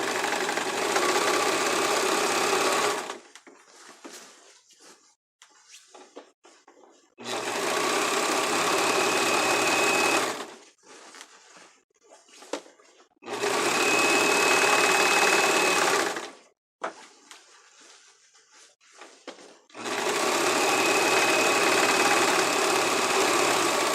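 A serger stitches around the edge of a tulle skirt in four loud, steady whirring bursts of a few seconds each, separated by quieter pauses with faint handling noises.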